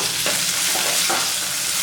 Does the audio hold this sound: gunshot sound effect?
no